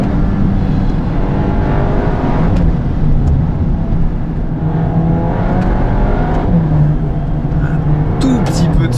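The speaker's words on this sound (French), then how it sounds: "Elle décolle cette Golf 8 R." A Volkswagen Golf 8 R with 320 hp pulls hard, its engine a loud continuous roar with rising pitch sweeps as it builds speed, and a faint voice underneath.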